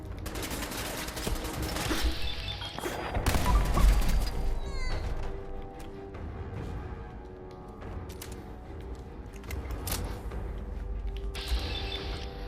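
Gunfire from an upgraded gun in Fallout 4, heard as bursts of shots and clattering mechanical clicks and ratcheting, loudest early on, then quieter metallic sounds with game noise between.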